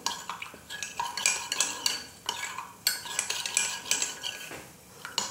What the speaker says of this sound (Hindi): उसमें मिलाएंगे 2 चम्मच कस्टर्ड पाउडर और इसको अच्छे से घोल लेंगे